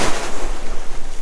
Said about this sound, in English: Look at those waves down there.